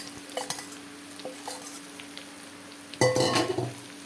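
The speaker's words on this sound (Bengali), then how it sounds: "মশলা মাখানো ভেন্ডিগুলো দিয়ে দিলাম। তো এবার খুব ভালোভাবে নাড়তে হবে, যাতে নিচে না লেগে না যায়।" Spice-coated okra fries in oil with a quiet sizzle while being stirred, with a few light utensil clinks, then a louder scraping burst near the end.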